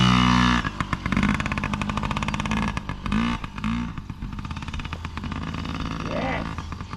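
Kid's motorcycle circling a small training track, its small engine buzzing with repeated smooth revs rising and falling close by, while a coach talks over it.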